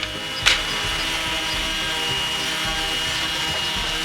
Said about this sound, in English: Sander.